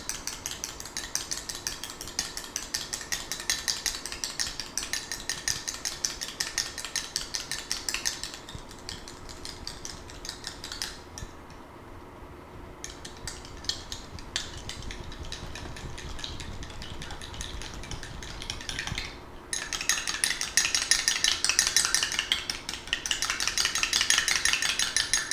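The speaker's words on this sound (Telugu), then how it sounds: "కాబట్టి స్టిక్కీనెస్ తగ్గాలి అంటే మనం ఈ విధంగా బీట్ చేసుకోవాలి" A sticky homemade face pack mixture is beaten in a bowl, a continuous, fairly loud scraping and stirring that carries on with brief dips, with no talking.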